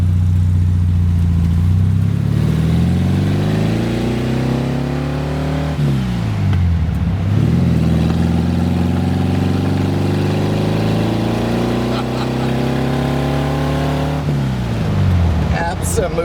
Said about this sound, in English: you got that great old VW sound, but the thing's actually quick